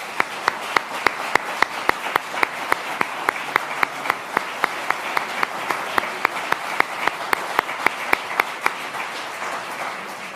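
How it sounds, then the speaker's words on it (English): An audience at the Come Home Year launch event applauds in a sustained, fairly loud wash of clapping, punctuated by a steady, rhythmic series of crisp individual claps throughout. "Please give them a round of applause."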